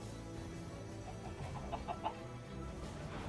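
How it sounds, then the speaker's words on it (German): Chickens cluck softly in the video game Minecraft on a farm, a few faint short clucks near the middle over a low steady background hum. "Und auch die Hühner müssen in anderen Zwinger, die backen sich da wieder in den Ecken fest"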